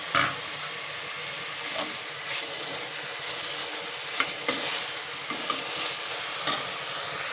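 Chopped tomato sizzles steadily in hot spiced oil while egg biryani is cooked, with occasional stirring clatters over the constant close frying hiss.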